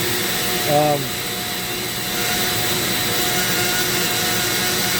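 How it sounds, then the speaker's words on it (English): A downdraft table pulls air and smoke down with a steady, loud whooshing roar while a Dremel carves purpleheart wood; a brief whine rises near the start. "My downdraft is pulling."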